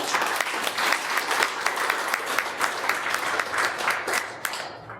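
Applause from an audience at a Vedic spiritual gathering. Dense, steady clapping from many hands continues for several seconds and fades out at the end.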